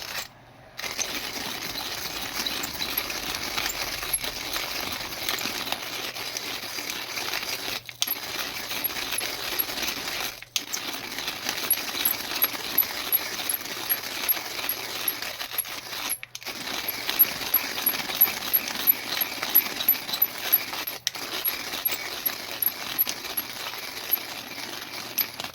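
Coffee beans being hand-ground in a manual burr grinder for an AeroPress brew: a continuous close, crunchy rasping with a fast rattling rhythm, a few short pauses between spells of cranking, and no talking.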